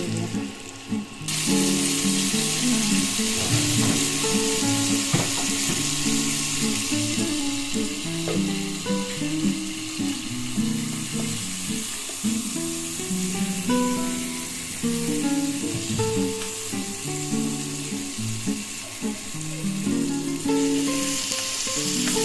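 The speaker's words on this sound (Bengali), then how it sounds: "আর দু মিনিট ভাজলে তাহলে আমার মোটামুটি ভাজাটা কমপ্লিট হয়ে যাবে" Semolina roasting with turmeric in a pan for pulao gives a loud, continuous close sizzle with occasional stirring scrapes and no talk.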